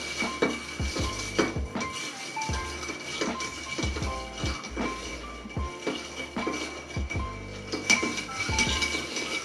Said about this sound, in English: regardless of what James Bond tells you, like you stir